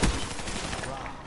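Video game gunfire, a dense loud burst that opens sharply and holds as a rattling blast for about a second.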